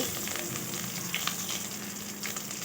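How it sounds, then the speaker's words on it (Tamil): Mustard seeds and urad dal sputter in hot oil for a beetroot rasam tempering, a steady close crackling sizzle with scattered pops and no voices. "கடுகு உளுத்தம் பருப்பு நல்லா பொரிஞ்சு வரட்டும்"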